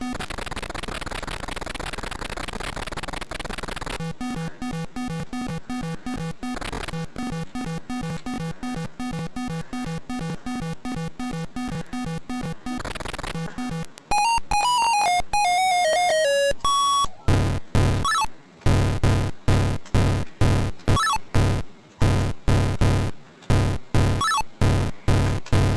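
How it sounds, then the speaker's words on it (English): Atari 2600 game audio with a low oxygen tank warning: harsh electronic buzzing and rapid repeating beeps, loud and continuous, followed by a falling sweep and chopped bursts of tones. "that sound you hear is your oxygen tank basically running low"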